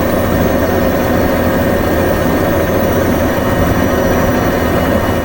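Steady, loud Bell 206 helicopter engine drone in a flight simulator game, with a continuous rotor rumble, constant throughout with no talking.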